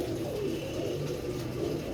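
Several pigeons give low, throaty coos that overlap into a steady soft burbling, fairly close and unbroken by speech.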